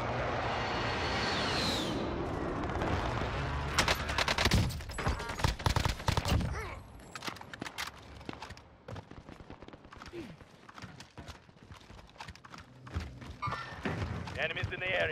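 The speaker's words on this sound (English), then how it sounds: "Be advised, friendly precision airstrike inbound." A precision airstrike in Call of Duty Warzone, heard as a burst of heavy thuds and rapid explosive blasts that fade into scattered impacts and distant gunfire, with in-game voice callouts over the action.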